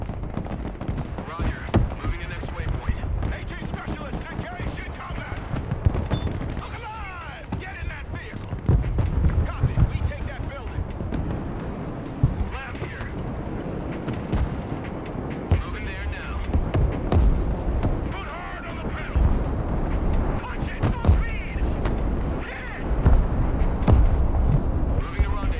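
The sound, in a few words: rocket artillery fire in video game Broken Arrow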